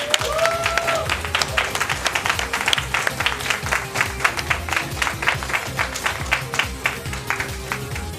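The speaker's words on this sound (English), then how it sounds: "let's give another round of applause to our wonderful runners." A crowd applauds steadily with dense overlapping clapping for speedrunners at a charity speedrun event, moderately loud, while a voice briefly speaks at the start.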